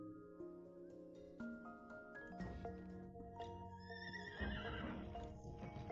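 A horse neighs in a long whinny while its hooves clip-clop steadily, with musical tones in the background throughout.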